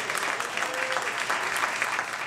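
An audience at an evening art and music event at Cajun's Wharf applauds for the co-MC, a continuous crowd of clapping hands with slightly uneven surges, moderately loud and without speech over it.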